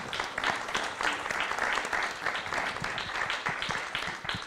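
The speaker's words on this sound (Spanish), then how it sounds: "un aplauso a Cádiz, a José Luis Gutiérrez Molina." Audience at a book presentation applauding, a lively, sustained round of many hands clapping with a fairly dense, uneven texture at moderate loudness, free of speech throughout.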